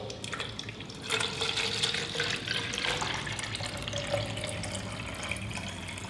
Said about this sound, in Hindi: एक प्लास्टिक या शीशे का जार लें, इसमें आधी मात्रा में पानी भर दें।